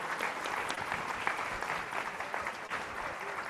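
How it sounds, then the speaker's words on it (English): Audience applauds a panel at an annual hemispheric security conference at a university, a sustained round of dense clapping at moderate volume, steady with slight swells, heard without speech. "One more round of applause for this Nora."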